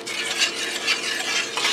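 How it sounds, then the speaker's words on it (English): Spoon stirring a cornstarch slurry into thickening beef broth gravy in a pressure cooker pot, a steady scraping and sloshing with soft rhythmic swirls over a low bubbling simmer, close and continuous. "I have a cornstarch slurry I'm going to stir in here to make the gravy"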